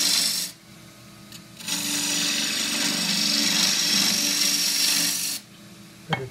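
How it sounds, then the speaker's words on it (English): A half-inch spindle gouge cuts cross-grain forest sheoak on a wood lathe, giving a steady, close rasping hiss that runs for about four seconds between brief pauses, with a short tap at the end. "So 1/2 inch spindle gouge."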